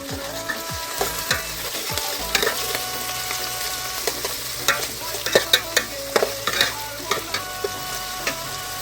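Onions sizzle steadily in hot oil with garlic paste as a spoon scrapes and stirs the pan in a series of clattering knocks, close and fairly loud, with no talking.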